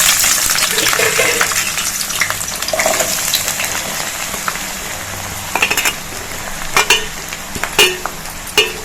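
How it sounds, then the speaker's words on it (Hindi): Onions going into hot oil in a pan for restaurant-style matar paneer, giving a broad steady sizzle with scraping stir sounds and a few sharp clinks of the spoon toward the end. "ये तेल हमारा गर्म हो गया है और इसमें प्याज डाल देंगे।"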